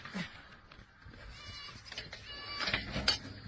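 A goat snatched up by a donkey lets out several short, strained bleats, with faint voices and background commotion around it.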